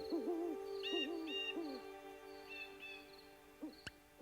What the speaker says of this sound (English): they could hear the crickets and a few birds saying goodnight